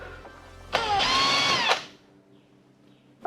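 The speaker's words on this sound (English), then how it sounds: "So what I like to do is I just like to use the drill." A power drill tapping threads into drilled holes whines in one steady burst of about a second, preceded and followed by quieter clicks and a brief restart at the end.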